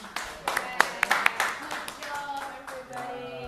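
A group of class participants applauds a final student's vintage-style art and design work, scattered hand claps building into a short round of clapping under room noise, with some voices in the background.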